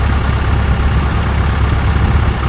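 A Taylorcraft BC12-65 light airplane's engine idles at about 1,000 RPM, a steady, close, low rumbling drone that holds unbroken throughout with no talking.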